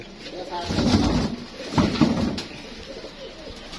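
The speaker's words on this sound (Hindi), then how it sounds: "कबूतर है इधर है" Low pigeon coos come in soft repeated bursts close by, mixed with background murmuring voices.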